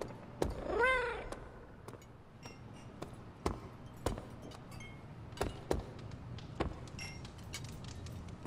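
A cat meows once in the video game Marvel Midnight Suns, fairly clear and close, then soft scattered taps and clicks continue in a quiet room.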